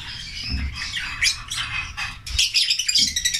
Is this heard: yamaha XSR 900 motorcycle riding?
no